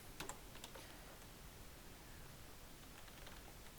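Soft, quick keystrokes on a computer keyboard cluster near the start while text is typed in a word processor, then fade into a faint, steady background hiss.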